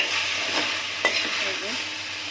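Malabar spinach (pui shak) stir-frying in a pan, a soft steady sizzle with a few brief stirring scrapes and a light clink, close and alone with no talking.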